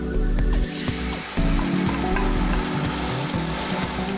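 Tomatoes going into a hot pan with red chili powder for a Durban fish curry, a loud continuous sizzle up close with scraping and stirring noises through it.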